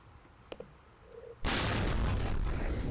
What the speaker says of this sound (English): dramatic video showing a Penske box truck exploding in suburban Chicago over Memorial Day